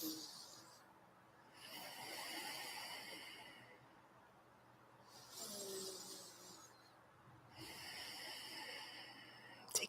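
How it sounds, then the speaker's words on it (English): Slow yoga breathing during a vinyasa flow: three long, airy breaths, each a soft swelling rush lasting a couple of seconds, heard close in a quiet room with faint talk between them. "Take another inhale. And exhale slowly, slowly."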